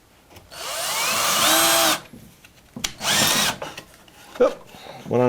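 A power drill drives Torx head screws into kitchen cabinets in two loud whining bursts, the motor pitch climbing then cutting off, followed by short clicks and a brief restart; a voice talks faintly between bursts.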